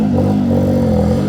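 A small Honda Beat car idling at an outdoor car show, its engine giving a loud, close, steady hum with a mild rumble and no talking.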